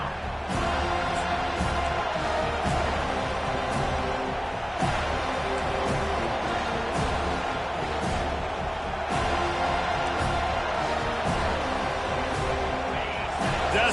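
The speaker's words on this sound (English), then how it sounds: "decibels rising as the crowd gets behind this defense on third down" Football stadium crowd roaring for the defense on third down at an FSU–LSU game, a loud continuous wall of cheering and noise with occasional sharp bangs rising from the stands.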